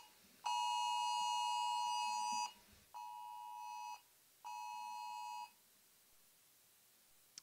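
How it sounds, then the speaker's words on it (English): A national emergency alert tone from the emergency broadcast system: a loud, sustained two-tone electronic beep runs for about two seconds, then two shorter beeps follow with brief gaps between them, with no voices. "That was the emergency broadcast system."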